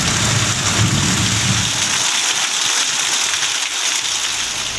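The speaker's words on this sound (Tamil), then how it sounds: "திண்டுக்கல் நகர்பகுதியில் அரை மணி நேரத்திற்கும் மேலாக கனமழை வெளுத்து வாங்கியது." Heavy rain pours down over a town's streets, a dense, steady roar of drops hitting surfaces, loud and continuous throughout with no voices.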